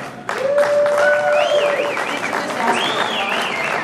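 A crowd breaks into applause, steady clapping with whoops and cheers rising over it, then holding for a few seconds.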